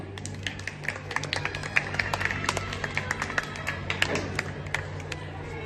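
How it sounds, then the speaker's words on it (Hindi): Scattered, uneven handclaps from a modest audience at a Hindi Diwas stage program, moderately faint over a steady low hum and room murmur, continuing for several seconds. "कुछ शब्द, कुछ चिन्ह और कुछ अक्षरों को तालियों के साथ मंच पर आमंत्रित करना चाहूंगी"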